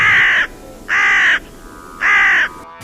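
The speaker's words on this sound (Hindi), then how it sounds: "कुछ समय के बाद एक विचित्र सा कौआ उड़ता हुआ उसके पास आया।" Three loud, harsh crow caws come at a slow, even pace, close and clear over faint background hiss.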